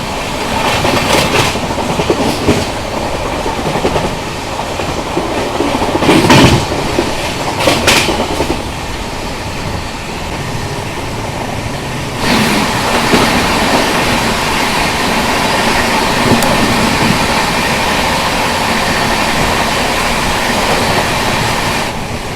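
Mumbai-Haridwar AC Superfast Express running slowly through a curve near Lalitpur, with steady rolling rumble and clickety-clack of wheels on rail joints, occasional louder bursts, heard close and continuous without talk.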